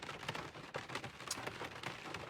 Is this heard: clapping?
no